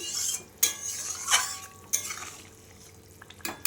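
A lid placed over a pot of papaya, potato and catla fish curry, with several sharp metallic clinks and scrapes of cookware separated by quiet gaps.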